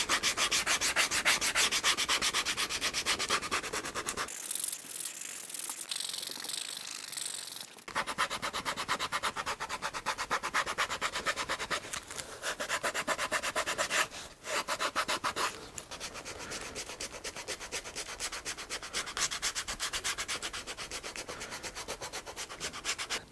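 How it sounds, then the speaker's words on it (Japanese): Continuous rough scraping of sandpaper rubbed back and forth on a leather shoe edge, close and steady, with a brief pause partway through. "そしたら次は紙やすり当てていきます。"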